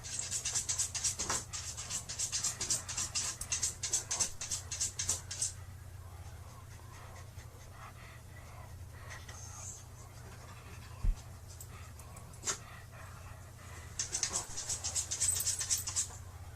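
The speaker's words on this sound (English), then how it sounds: "The dog is bothered by something in the closet, maybe? He's like scratching the corner of it." A dog scratches at the corner of a closet in quick, rapid scraping bursts, first for several seconds and again toward the end, with quiet room noise between them.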